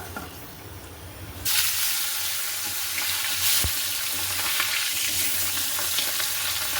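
Steady crackling sizzle of fish frying in hot oil, loud and close, with a brief clink partway through and no talking.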